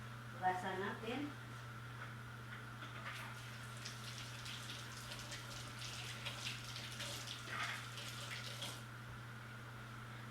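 Tap water runs steadily in a kitchen sink while chicken gizzards are washed, a continuous wash of splashing under a constant low hum, with brief clatter near the start.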